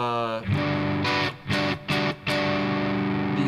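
Electric guitar played through the green channel of a Revv G120 MK III amplifier, distorted chords and sustained notes, loud and full, with several short rhythmic breaks between strummed bursts.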